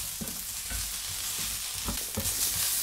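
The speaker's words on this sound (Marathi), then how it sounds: "आपला आता कांदा भाजून झालाय चांगला" Sliced onion roasting in a pan for Malvani chicken sagoti, a close sizzle with repeated scraping stirs in an uneven rhythm, no talk.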